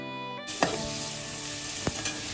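Ginger garlic paste fries in hot oil for chicken curry, a dense continuous sizzle that starts abruptly, with a couple of spoon scrapes against the pan, fairly loud and close, no speech.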